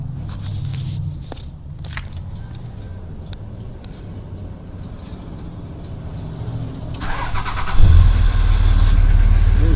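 A 2005 Dodge Ram 3500 diesel is cranked by a remote starter, quiet idle noise and clicks at first, then the starter grinds and the engine catches with a loud, close low rumble that keeps running.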